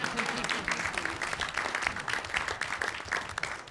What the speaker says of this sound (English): You can clap if you feel so.